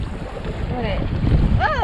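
Wind gust buffeting a Sunfish sailing dinghy on the water: rushing, roaring wind noise on the microphone that swells toward the end, with brief voice-like sounds over it.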